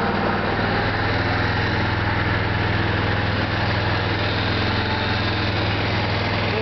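A 2006 Yamaha Wolverine ATV engine idles steadily after a cold start, a loud, even, continuous chugging drone close by with no talking.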